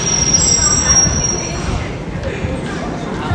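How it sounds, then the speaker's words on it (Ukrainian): A Beijing subway train rumbles loudly close by with a high metallic whine, the steady roar easing slightly as it pulls into the station. "Метро вже прийшов."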